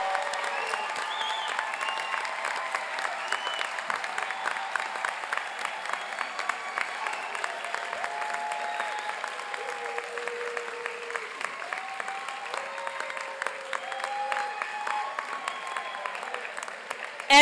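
Prolonged crowd applause at a spring college commencement ceremony, dense continuous clapping with cheers and whoops rising above it throughout, steady from start to finish.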